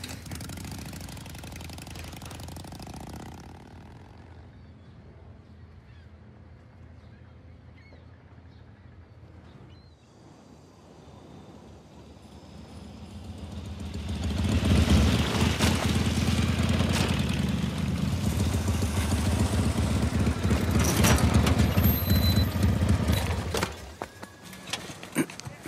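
A vehicle engine in Uncharted 4 idles with a low chugging rumble, then revs up and drives off, the roar swelling loud and rough before cutting away near the end.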